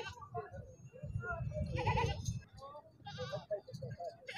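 Goats bleat in short, wavering calls at a busy livestock market for sacrificial goats, with traders' voices and crowd chatter mixed in around the animals.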